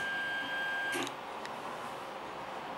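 A 3D printer starts printing dice. A steady electronic tone cuts off, followed by a couple of short mechanical clicks, all over a constant fan and motor hum.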